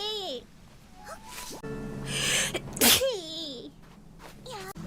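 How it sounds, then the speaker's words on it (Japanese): A female vtuber lets out a loud sneeze in the middle of the clip, with sighs and a breathy sound around it and high, squeaky vocal exclamations before and after. "めっちゃくしゃみ出る。"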